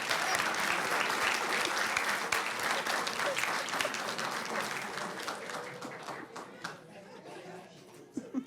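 Applause for an honored student at a school board meeting: a steady crowd of clapping hands that slowly thins and fades toward the end, with a little chatter and a chuckle mixed in.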